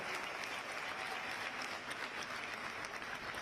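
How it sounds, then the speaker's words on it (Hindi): Steady applause from a political rally audience, clapping for India's scientists, a dense even wash of many hands sustained throughout without a break, moderately loud. "एक बार भारत के साइंटिस्ट के लिए जोरदार तालियां बजा दीजिए आप लोग"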